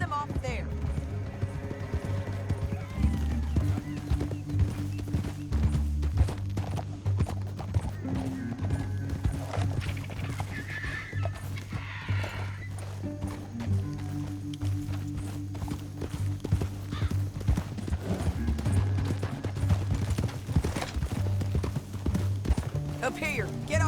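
Horse hooves clip-clopping in Red Dead Redemption 2 as riders travel through a canyon, a continuous rhythmic trot under music and occasional whinnies, with characters talking over it.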